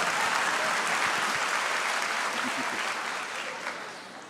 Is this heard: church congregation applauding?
yes